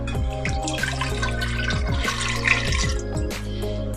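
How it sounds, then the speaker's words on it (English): Water poured into a pot on a stove while making choux pastry for eclairs; a continuous splashing pour runs throughout, mixed with trickling and dripping, and music plays underneath. "In this case it's going to be water."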